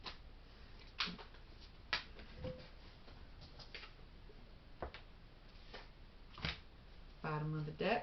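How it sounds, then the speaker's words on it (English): Tarot cards are shuffled in soft, irregular riffling bursts and taps, close and quiet, with a voice speaking briefly near the end. "I'm going to call it"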